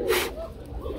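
A pigeon at a pigeon sellers' market gives a short soft coo, close and brief, with faint background noise.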